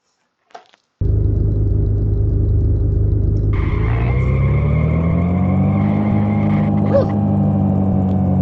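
A video game car built in Game Builder drives with a loud, steady engine drone that begins abruptly and rises in pitch midway, then holds, with a brief squeal near the end.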